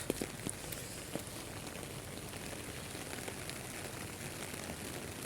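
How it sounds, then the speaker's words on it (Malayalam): Rain coming down in Birmingham, UK, by a riverside at night, a soft continuous wash of falling water with a few faint drop ticks near the start and no talking. "നല്ല മഴ."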